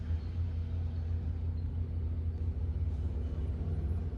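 Power company utility trucks roll past in the aftermath of a tornado, producing a steady, close, low engine rumble that holds constant throughout with no voices.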